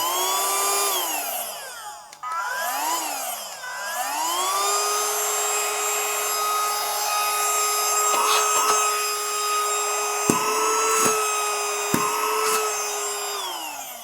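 A Gorenje MVC72HGA handheld 80 W car vacuum cleaner running close by, with a steady whining motor hum whose pitch rises and falls as it is moved, and a few sharp clicks and knocks in the later part.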